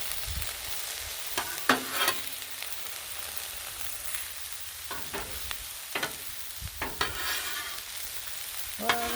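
Cheese steak ingredients, mushrooms, peppers and onions, sizzling on a griddle: a steady close frying hiss broken by sharp scraping and clanks of a spatula turning the food.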